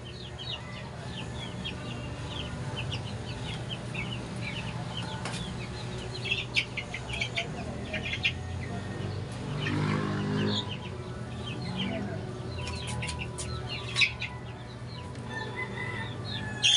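Chickens in a coop cluck and squawk intermittently over a steady low background hum, with scattered louder calls, moderately faint and without talking.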